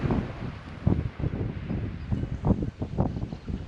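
Gusty wind blows through seagrass by a beach on Cuttyhunk, rising and falling in a rough, buffeting rush across the microphone with no clear voices.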